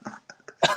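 A single short, close cough bursts out after a few soft throat sounds, brief and fairly loud in a quiet indoor setting.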